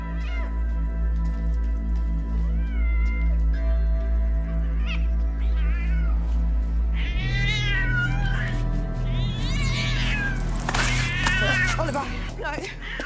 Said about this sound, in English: Give me the cat.